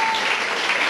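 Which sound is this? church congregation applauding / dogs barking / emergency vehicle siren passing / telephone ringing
church congregation applauding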